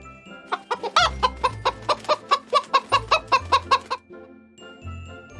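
A rapid run of sharp, rhythmic clucks from a chicken, about a dozen close together and fairly loud, then stopping abruptly.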